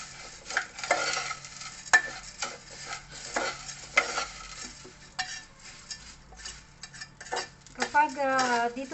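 Pop rice (borugulo masala) Indian street food being stirred and mixed in a metal pan, giving repeated scraping and clinking of utensil against metal with a soft sizzle, ending in a brief whine near the close.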